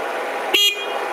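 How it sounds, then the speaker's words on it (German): A single short car horn honk, loud and close, sounding briefly over a steady background rumble. "Hupe funktioniert auch"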